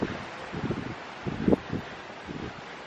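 Gusty wind blows outdoors on a fall day, buffeting the microphone in soft low rumbling bursts with rustling, fairly faint and without talking.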